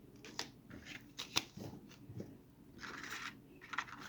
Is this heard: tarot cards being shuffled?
yes